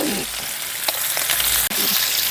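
Onion sizzles loudly in hot olive oil in a pan, a dense, crackling fry close to the mic, with a few stirring scrapes and a brief break near the end.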